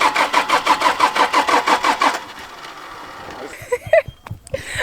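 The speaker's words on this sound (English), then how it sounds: "they're trying to restart, how do you call that? Jumpstart the car because I think it's the battery" Car engine cranking in rapid repeated pulses for about two seconds while someone tries to jump-start it in Kenya, likely with a flat battery; it fails to catch and falls to quiet ambient noise with a few faint clicks and knocks.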